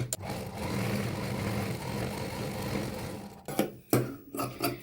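A sewing machine stitches fabric lining onto the main piece of a double-layer curved bag handle, running steadily and close for about three and a half seconds before stopping, followed by a few short handling clicks and rustles.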